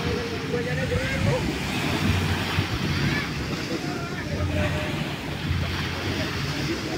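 Choppy sea waves slap and wash around during a boat race, mixed with steady wind buffeting and rushing water, continuous and fairly loud.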